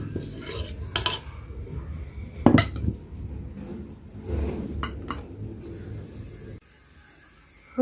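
Cooked food being scooped from a pot into a clear bowl, with clinks and scrapes of utensils against cookware in an irregular rhythm, close and moderately loud, then near silence at the end.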